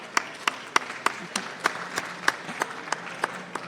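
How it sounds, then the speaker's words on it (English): A small audience claps at a startup event, sparse individual hand claps landing in a loose, irregular rhythm, fairly close and moderately loud with no talk. "Round of applause for Almas."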